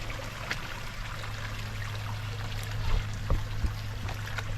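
Soft, continuous water stirring and trickling as an animal slinks into the pool of its enclosure, a low steady wash with a few faint splashy ripples near the end, no one talking.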